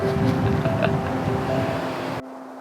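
Steady wind buffets the microphone beside a pond in a broad, continuous rush with a faint tonal hum running through it, cutting off abruptly near the end.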